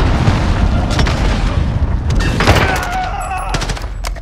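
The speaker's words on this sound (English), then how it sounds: "Cluster strike is go for launch." Cluster strike explosions in Call of Duty: Modern Warfare: a run of heavy booms and gunfire-like blasts, loud and close, rolling over one another through a dense battlefield din.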